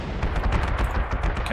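Dense, continuous barrage of gunfire and artillery-like blasts from units firing in the Panzer Corps 2 war game during the Stalingrad battle, loud and rapid with overlapping shots throughout and no talking.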